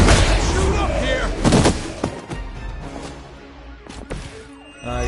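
Gunfire and heavy impacts in the video game Marvel Midnight Suns, with loud bursts and crashes layered over a dense battle din and game voices talking throughout.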